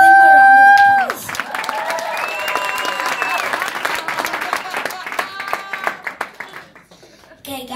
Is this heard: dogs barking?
no